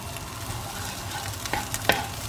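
Chorizo frying without oil in a Berghoff pan, a continuous close sizzle with a few short spatula scrapes toward the end and no speech.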